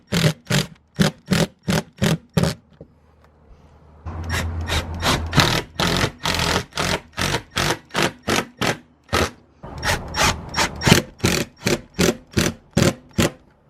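Screws being driven into a MaxxFan roof vent during installation, heard as a steady series of short, sharp, evenly spaced bursts from a power driver, with a brief pause partway through and no talk.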